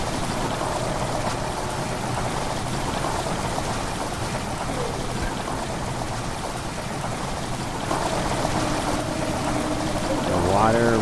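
Water rushing into a stone chamber in the horror game Amnesia: The Dark Descent, a dense continuous gushing and splashing roar that holds steady and swells slightly near the end.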